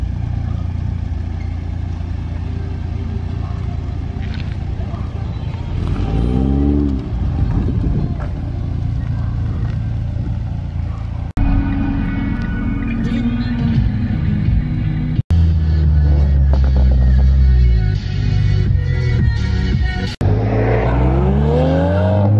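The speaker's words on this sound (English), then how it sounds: "we also have the brother moving the Supra out of the garage" A Toyota Supra's engine rumbles as the car pulls out of a garage, loud and close, with rising revs and some shifting tones.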